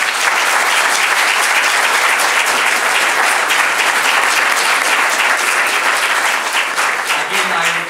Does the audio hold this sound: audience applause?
yes